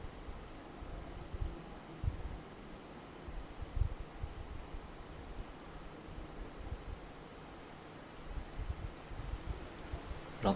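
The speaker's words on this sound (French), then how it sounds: "J'entends le son lointain de la pluie." Faint, distant rain falls in a steady soft hiss with scattered low patters, continuous and quiet with no voices.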